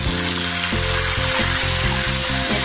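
White potatoes crisping in a hot pan alongside scallops and pork chunks, giving a dense, continuous close sizzle with rapid crackling and a few stirring scrapes.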